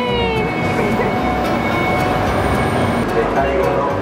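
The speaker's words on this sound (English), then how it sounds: "This is our train!" A train pulls into a station in Kyoto, Japan, with a loud, continuous rolling rumble overlaid by sustained high whining tones, close and steady throughout.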